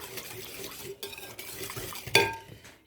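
A spoon stirs pide bread dough ingredients with olive oil in a bowl, making soft scraping, mixing sounds with a sharper clink of utensil against the dish near the end.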